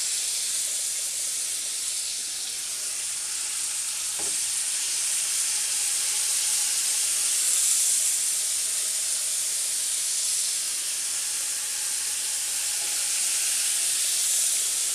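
Pork chops seasoned with salt and lemon pepper sizzle in a frying pan, a steady, close, hissing fry that continues evenly without a break and with no talking.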